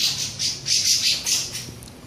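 A sabiá-poca thrush fighting gives harsh, repeated squawking calls in close, loud bursts, with a faint rustle between them.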